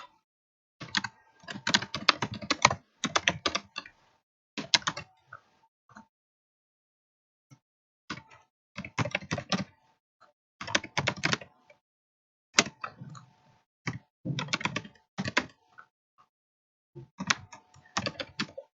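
Close, crisp computer keyboard typing as a question is entered, coming in short rapid bursts separated by brief silent pauses across the whole stretch, with no talking.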